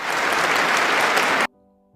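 Loud, dense applause from an audience fills the room for about a second and a half, then cuts off abruptly to near silence.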